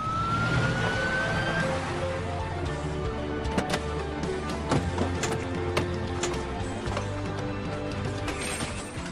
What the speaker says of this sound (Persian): وقتی صدای آمبولانس رو میشنویم